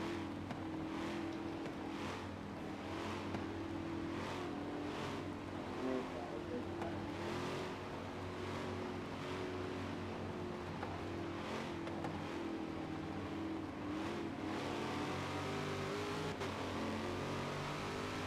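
Race car engines at Road America in the sim-racing series TPSR ALMS, a steady loud droning roar with rising and falling revs as cars pass.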